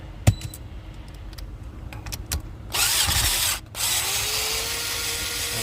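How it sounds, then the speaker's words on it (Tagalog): Speed ratchet spinning out the retaining screws on a car's passenger airbag module, with a few sharp metallic clicks and taps, then a steady close whirring rattle of the ratchet running for several seconds. "And then we're gonna use our speed ratchet."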